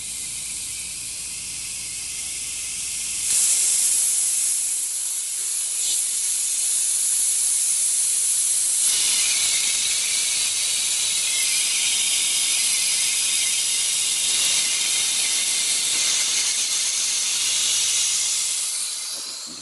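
Pressure released through the valve of a Milwaukee M18 Fuel air compressor: a loud, steady hiss of escaping air that surges abruptly after a low mechanical hum and holds strong for over fifteen seconds before easing slightly.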